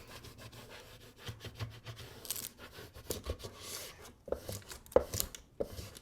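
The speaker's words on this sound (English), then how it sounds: "So all I'm doing is burnishing this stencil on, making sure that I get it down nice as flat as I can here" A stencil is burnished onto a small wooden sign. The result is quiet, irregular rubbing and scraping strokes close by, with a few sharper taps near the end.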